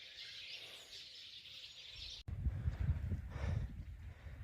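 Steady high-pitched bird chatter at a campsite in Halfeti, Turkey, fills the first half, then gives way to louder low rumbling and wind-like noise with fainter calls continuing.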